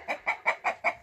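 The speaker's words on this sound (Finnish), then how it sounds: "Kukko paimentaa siellä" A rooster clucks six times in a steady, even rhythm at moderate distance, with no voices.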